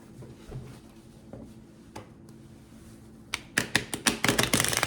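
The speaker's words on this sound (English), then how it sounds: "I'm going to give this one quick shuffle." A tarot deck is handled with a few scattered soft taps at first. A quick burst of crisp card riffles and flicks follows near the end, close and with no voices.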